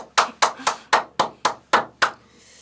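One person claps on a talk-show set, eight crisp, evenly spaced claps, close and loud with no talk.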